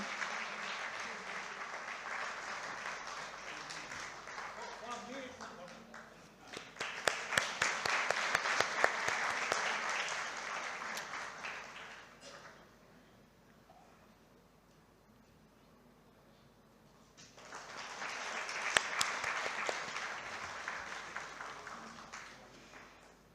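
Audience applause at a conference's inaugural session, in two sustained rounds of clapping, each swelling and then fading, with a quieter stretch of room noise between them.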